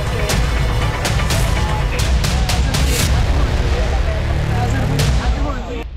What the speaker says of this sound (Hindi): तभी गोलियों की आवाज से भगदड़ मच जाती है